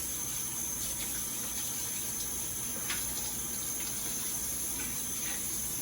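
Running tap water pours steadily over a dish being rinsed in a kitchen sink during chocolate cake baking, a continuous close hiss with faint clinks, no talk.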